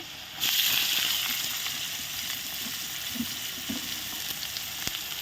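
Chopped onions drop into hot oil with already browned fried potatoes for an egg curry dum, setting off a sudden loud sizzle that settles into steady, hissing frying.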